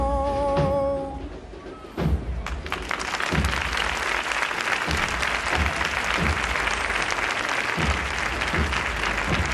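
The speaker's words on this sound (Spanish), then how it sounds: "Aplausos para Pedro Ortiz" At a Holy Week procession in Mérida, a sustained crowd applause for a saeta singer bursts out after a held sung note ends, dense and continuous in the open air with scattered thumps.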